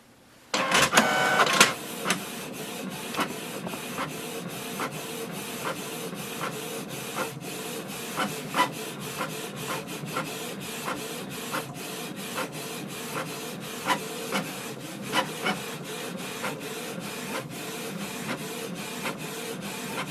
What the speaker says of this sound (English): Confirm your printer and it will start the printing.